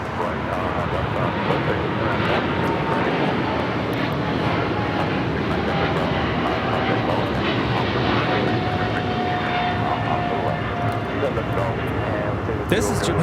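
Japan Airlines Boeing 777-300ER jet taking off from Los Angeles International Airport bound for Tokyo Haneda, a steady loud broadband engine roar with a faint whine, while people talk over it.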